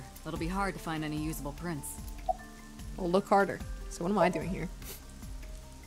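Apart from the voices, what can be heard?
rain falling in video game AI: The Somnium Files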